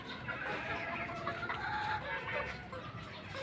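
A gamefowl brood cock clucks in a farm yard, a few short, close clucks over a busy background of other fowl calling.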